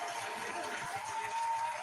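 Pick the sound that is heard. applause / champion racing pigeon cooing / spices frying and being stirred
applause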